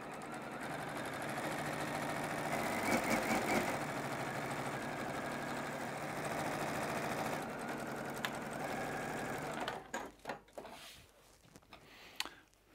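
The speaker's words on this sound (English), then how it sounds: "I'm just going to keep on sewing" A sewing machine stitches quilt fabric in a steady, fast mechanical whir for about ten seconds, close up, then stops, leaving a few soft handling clicks and rustles.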